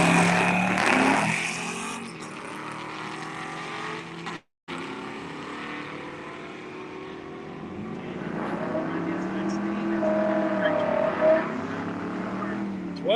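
A drag racing car makes a pass at a midwest drag strip, its engine loud and roaring before fading, then a second engine swell rising and building again, with someone talking over the noise.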